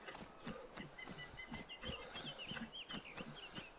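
A chicken in the survival game DayZ: faint, repeated clucking and short squawks in an uneven rhythm, fairly quiet against soft background noise, no talk.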